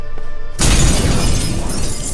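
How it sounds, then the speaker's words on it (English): A mirror shatters in The Witcher 3: a sudden loud crash of breaking glass bursts in after a quiet, tonal lead-in and then rings and scatters as the fragments fall. "Gotta be some mirror here you won't shatter."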